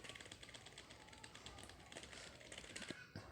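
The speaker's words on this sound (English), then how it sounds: "for the keyboard test, I'll be just typing random things" Random typing on a USB keyboard plugged into a cellphone: a fast, steady patter of close key clicks with no talking, ending with a couple of firmer taps.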